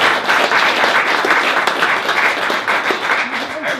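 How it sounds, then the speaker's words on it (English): Loud round of applause for the panel at a user group meeting, a thick burst of many people clapping that slowly thins out near the end, with voices rising underneath. "Let's have a big round of applause for the panel."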